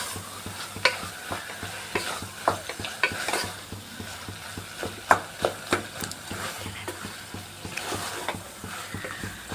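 Potato stuffing for aloo bonda is stirred in a pan, a spoon scraping and clinking in an irregular rhythm over a steady background sizzle, close and moderately loud, with no talking.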